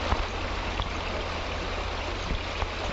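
The Tiro River in Aceh rushes steadily over its stony bed, a continuous close wash of flowing water with no voices.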